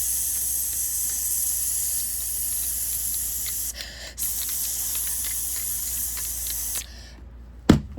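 A voice imitates a spray finish can with a long, steady hissing spray that breaks briefly, resumes, then stops abruptly with a short sharp sound at the end.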